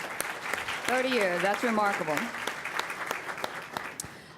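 Audience applause at a city employee service award ceremony, a steady patter of many hands clapping in a hall while someone speaks over it.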